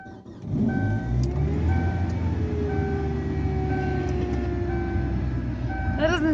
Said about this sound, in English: going to start my car just to make sure it does start